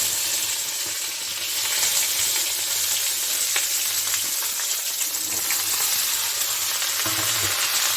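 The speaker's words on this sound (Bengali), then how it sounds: "একটু হাই হিটেই ভাজবো" Okra frying in a little oil on high heat, a dense steady close sizzle with faint popping and spatter crackles throughout, unbroken by voices.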